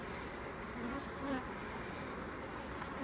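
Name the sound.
honey bees buzzing around hive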